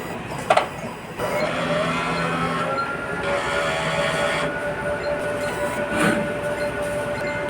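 A printer runs a print head cleaning cycle with capping, producing mechanical whirring and motor tones with brief clicks and a rising pitch, steady at moderate level and close by.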